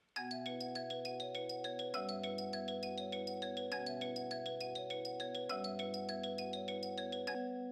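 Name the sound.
melody with halftime Gross Beat effect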